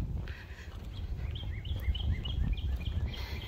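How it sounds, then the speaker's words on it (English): Faint chirping birdsong in short, scattered phrases over a low outdoor rumble at Big Sioux Recreational Area, with no talking. "hearing the sound of the birds. So beautiful."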